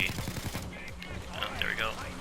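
Rapid bursts of low-damage SMG fire in the video game Payday 2, a dense rattling volley running through most of the stretch, mixed with game effects and a speaking voice.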